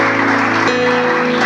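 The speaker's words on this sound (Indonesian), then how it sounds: "Tepuk tangan bagi Allah." Church congregation applauding during a sermon, a loud, dense clapping wash filling the room, with a steady sustained tone running underneath throughout.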